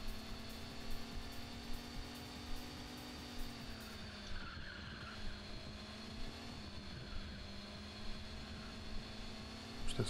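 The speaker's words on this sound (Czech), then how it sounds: "to je asi z auta, jak jsem si dal ten pohled dopředu, tak to má jiný zvuk. Ten motor." Steady droning engine note of a sports car in the Sports Car GT PlayStation racing game, a continuous buzzing whine with slight pitch shifts and faint tire noise, no talking.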